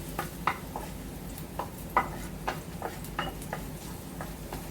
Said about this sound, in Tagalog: Gisa-gisa natin yan.